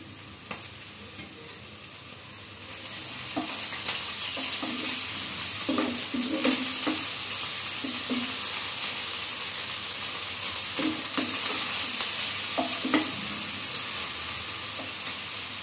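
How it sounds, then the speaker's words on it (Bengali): Oil crackles and sizzles steadily as paste fries, with occasional spoon scrapes against the pan; close and continuous without speech. "আদা রসুনটা ভাজা ভাজা হোক"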